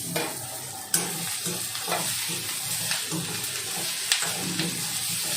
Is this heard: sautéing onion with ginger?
yes